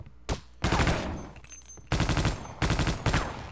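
Gunfire in the Half-Life: Opposing Force game, loud close bursts of rapid automatic shots, one brief shot first and then several longer rattling volleys separated by short pauses, with no speech over them.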